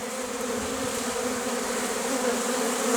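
Bees buzzing in steady numbers at the edge of a forest in March, a dense continuous hum of many insects that swells slightly toward the end, with no voices.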